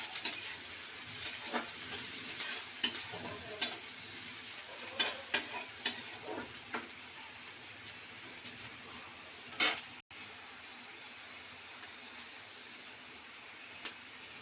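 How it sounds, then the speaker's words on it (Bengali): Onions and green chillies frying in a pan as a fish dish is prepared, giving a steady soft sizzle with intermittent stirring scrapes, one sharper clatter near the end and no talking. "পেঁয়াজের সঙ্গে কাঁচা লঙ্কাটা একটু ভাজা হয়ে যাবে"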